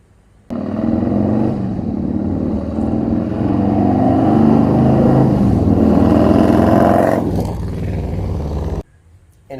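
A custom Harley-Davidson Road King Roadthug motorcycle with an aftermarket exhaust rumbles loud and close, holding a deep steady growl for several seconds with a slight rise in revs before cutting off abruptly.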